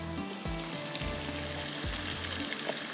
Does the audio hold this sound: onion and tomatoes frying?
yes